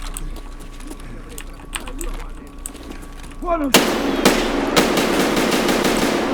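ADAR 2-15 assault rifle fire in Escape From Tarkov: after a quieter stretch with talk, sharp rapid gunshots burst in loud and close, continuing in a dense volley with a few distinct cracks.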